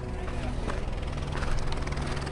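A helicopter takes off near Gorakshep in the Everest region, a loud, steady rotor drone with rhythmic blade chop, fairly close and continuous throughout.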